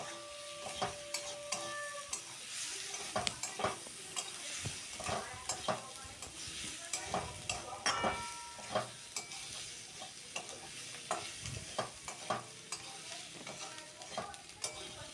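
Katla fish pieces with potato, grated ginger and garlic, turmeric and chili powder are stirred in a pan, giving irregular spatula scrapes and metallic clinks over a low sizzle, fairly quiet and close.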